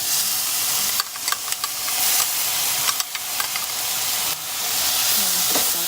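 Rice sautéing in a pan with tomato sauce, a loud, continuous close hiss and sizzle with brief gaps where a spoon scrapes and clacks against the pan, with no voices.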